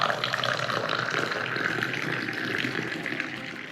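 Moroccan mint tea streams from a high height into glasses in Fes, a continuous bright splashing pour that stays steady and fairly close, with no talking over it.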